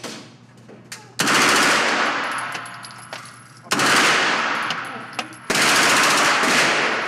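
Automatic gunfire at an outdoor shooting range: three long, loud, close-up bursts of rapid shots, separated by short pauses with quieter ringing in between.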